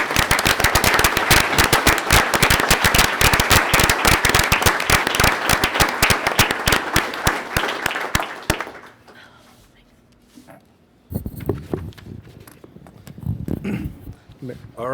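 A village board meeting audience breaks into loud, crisp, rapid applause that holds for several seconds, then cuts off into near quiet before scattered shorter bursts of sound return.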